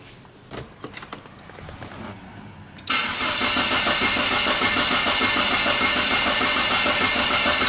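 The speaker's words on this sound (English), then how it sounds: "So let's crank the engine over and see the signal." A few faint clicks and clatters as a Saab 9-3 engine cranks, then it catches and roars to life, settling into a loud, steady running drone.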